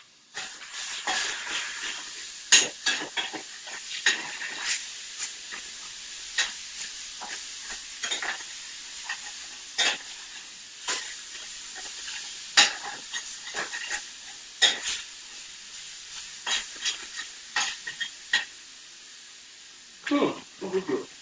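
Vegetables sizzle and hiss steadily in a pan during home dinner cooking with jerk sauces, with irregular stirring scrapes and clatters breaking through the constant fry.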